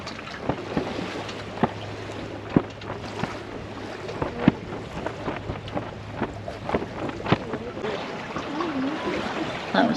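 Gusty wind buffets a small sailboat at sea, rumbling against the microphone over lapping water, with sharp knocks and creaks throughout and a voice briefly heard.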